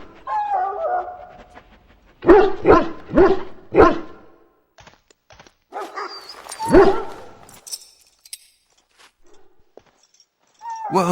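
A hound in Dragon Age Origins barks in a quick burst of four loud yelps, then yips and whimpers again after a pause, close and clear, with brief faint voice in between.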